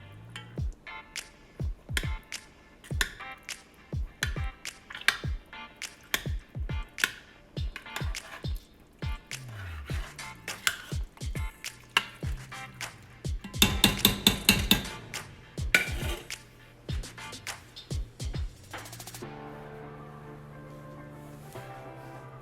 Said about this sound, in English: I like to take my spoon and just break them up just a little bit